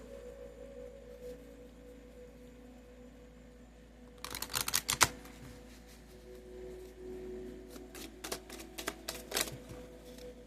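Quiet room tone, then bursts of crisp clicking and flapping as tarot cards are shuffled, two close flurries separated by a pause.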